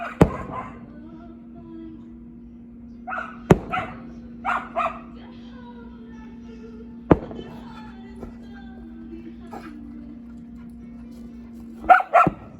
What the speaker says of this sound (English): Loudmouth dog.